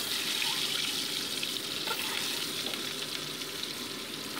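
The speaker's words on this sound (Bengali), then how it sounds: "এবার কড়াইতে সর্ষের তেল গরম বসিয়ে দিয়েছি, নুন হলুদ মাখানো সেদ্ধ হাঁসের ডিমগুলোকে আমি ভেজে নিচ্ছি।" Boiled duck eggs coated in salt and turmeric fry in hot mustard oil in a wok, giving a steady, dense sizzle that stays even and close throughout.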